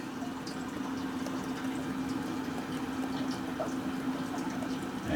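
Water trickles through leaking sugarhouse maple sap vacuum tubing with a faint steady gurgle over a low mechanical hum, quiet and continuous.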